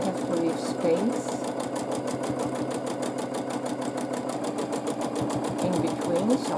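Sewing machine quilting a double wishbone pattern on a scrappy quilt, a fast, even mechanical rattle of stitches running continuously and close, with someone talking over it.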